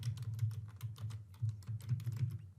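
Rapid typing on a computer keyboard, a quick near stream of light key clicks with no voices.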